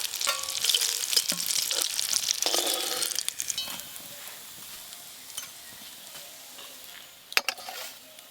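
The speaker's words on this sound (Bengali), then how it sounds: "একদম এপিট ওপিট উল্টে পাল্টে ভালো করে ভেজে নিয়েছি" Fish sizzles and crackles loudly in hot oil in a home kitchen. The sound is close and dense at first, then thins as the fish is turned and lifted out, with a few sharp utensil clinks near the end.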